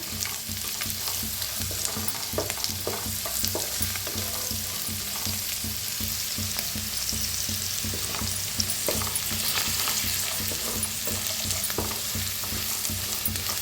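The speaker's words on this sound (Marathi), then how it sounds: "त्याला बी छान असं भाजून घ्यायचं" Spices with a spoonful of turmeric roasting in oil in a pan for seasoned fried rice, a continuous close sizzle with repeated scraping stirs of a spoon against the pan, no voices.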